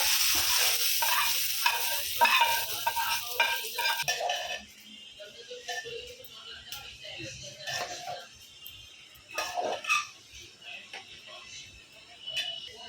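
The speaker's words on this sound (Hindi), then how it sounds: "इसको अभी राइस में डालेंगे और अच्छे से मिक्स करेंगे" Fried cumin and green coriander get mixed into cooked rice for jeera rice. A loud oily sizzle fades after a few seconds into softer scraping and stirring taps.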